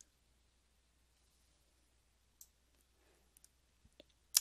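A computer mouse clicks faintly a few times in a quiet room, ending with one sharper, louder click.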